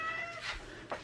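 A soaking-wet house cat gives a short, faint meow, a brief drawn-out cry followed by a second quick squeak, heard close and alone indoors.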